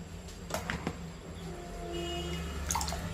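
Water drains from boiled green peas through a strainer in a home kitchen, heard as soft trickling and scattered drips with a light pour near the end, close and fairly quiet.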